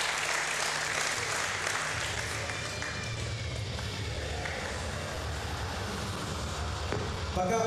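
Fans applauding at a combat sports fight, a dense, continuous wash of clapping filling the arena at steady loudness, with faint crowd murmur beneath.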